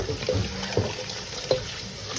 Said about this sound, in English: Rinse a couple of times until our water is nice and clear.